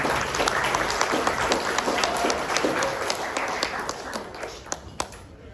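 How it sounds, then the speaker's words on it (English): Audience applause at a chamber of commerce general membership meeting on Guam, a steady patter of many hands that thins into scattered claps toward the end. "Let's give another round of applause for our speaker,"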